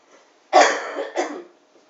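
Two close coughs, a harsh burst followed by a shorter second one, near and loud with quiet before and after.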